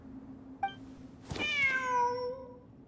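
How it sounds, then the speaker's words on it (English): A cat in Genshin Impact gives a short chirp followed by one clear, drawn-out meow, close and distinct over a quiet low hum. "Wait, there it is! The cat!"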